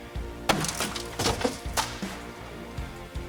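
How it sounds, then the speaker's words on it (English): A VW Bug's rear quarter glass being pried out with a pry bar: sharp cracking and splintering snaps, several close loud hits followed by smaller creaks and taps. "I think a pry bar can help me pop out the rear quarter glass"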